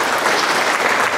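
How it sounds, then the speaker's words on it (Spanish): Audience at a school graduation ceremony for the 2018 class breaks into loud, dense applause, many hands clapping at once in a continuous wash with no talking over it. "Muy bien, fuertes palmas."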